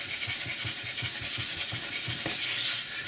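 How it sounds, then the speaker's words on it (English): A sharpening stone scuffed back and forth on a wet diamond plate, a close, loud, rhythmic gritty rubbing with about ten even strokes and no talk. "you just scuff the stone on the diamond plate"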